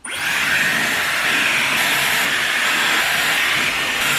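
A Dyson Airwrap hair dryer starts up and blows air in a loud, steady, close hiss with a faint high whine, running continuously with no talk.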